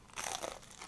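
A bite into a grilled anchovy and cheddar toastie, golden-browned on top, gives one short crisp crunch close to the listener, quiet and without any talk.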